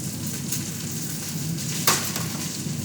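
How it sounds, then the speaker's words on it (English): Food sizzles and fries in a pan on a college kitchen stove during puree soup preparation, a steady crackling hiss with one brief sharper spatter, close and without speech. "Still frying."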